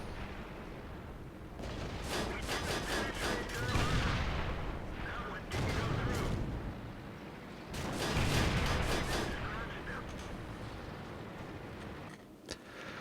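Tank cannon fire and explosions in the World of Tanks video game, with a Panzer IIJ tier 3 tank in battle: repeated heavy booming blasts and crackling bursts in waves, loud and close, with brief lulls between.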